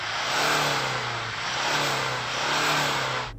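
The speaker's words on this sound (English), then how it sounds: "Let's hear that Toyota turbo diesel. Go on, Toyota, rev up your diesel." A Toyota Land Cruiser's 2.8-litre four-cylinder turbo diesel revs close by, its engine note rising and falling through three swells with a rattly, steady drone and no talk.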